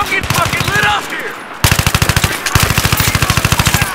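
Rapid machine gun bursts in a shooter video game ring out loud and close, a short burst followed by two longer sustained strings of evenly spaced shots, with a voice speaking briefly at the start.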